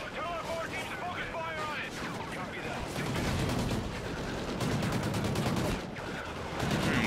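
A Remington gun fires in the shooter Call of Duty Ghosts amid a busy battle, with continuous loud gunfire and rumbling blasts that blend into a dense, steady roar. A voice is partly audible underneath.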